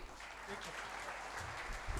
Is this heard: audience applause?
yes